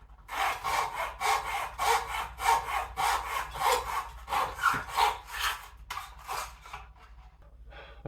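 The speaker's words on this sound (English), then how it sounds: "And off camera, I'm going to use a miter box and saw." Hand saw cutting through wood in a miter box for a partscaster guitar build, steady back-and-forth rasping strokes in a quick rhythm, close and loud, with no talk.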